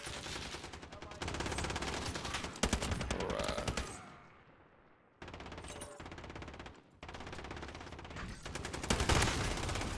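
A FiNN LMG light machine gun rattles off long, loud automatic bursts in Modern Warfare, pausing briefly for about a second before firing again, hard and close throughout.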